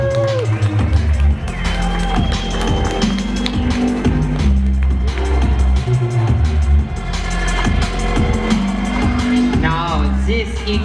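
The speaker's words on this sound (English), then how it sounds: "It is okay to clap and cheer." Audience clapping and cheering at a fashion show, a dense steady crowd roar with scattered claps mixed into loud music and voices for the whole stretch.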